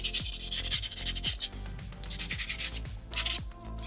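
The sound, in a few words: sanding soapstone fox carving with sandpaper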